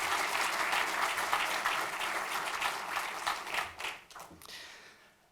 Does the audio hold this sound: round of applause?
yes